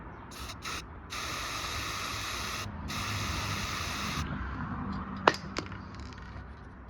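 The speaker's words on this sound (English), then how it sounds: "I've just shook up the silver spray paint" Silver spray paint hissing from an aerosol can in several bursts, a short one, then two longer steady sprays at close range, with a couple of sharp clicks near the end, used on rusty parts of a Yamaha Virago 250 motorcycle.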